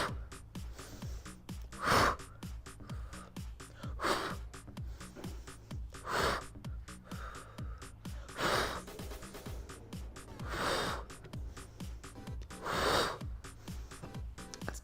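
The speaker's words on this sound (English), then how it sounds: "Now listen to the breathing." Heavy rhythmic breathing during a beginner core workout, with strong gasping exhales roughly every two seconds over softer inhales, close and loud.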